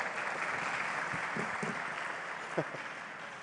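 Conference audience applauding Mr. Karim at a social politics conference, a steady, fairly faint wash of clapping across the whole stretch with a few brief voices murmuring underneath.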